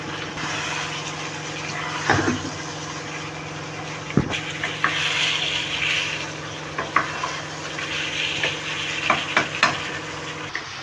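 Chicken pieces with vinegar added, sautéing in a pan for spicy chilli chicken gravy, a continuous soft sizzle broken by occasional scrapes and clinks of a stirring spoon.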